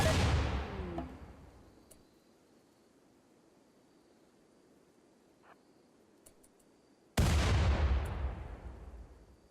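Two grenade blasts in the colony-building video game RimWorld, each a loud broadband boom that decays over a couple of seconds, separated by a quiet gap with faint ticks and no voices.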